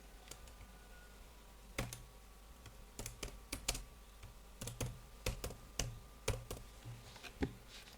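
Close, fairly quiet keystrokes tap out text on a computer keyboard in an irregular rhythm of single clicks and quick clusters over a faint steady hum.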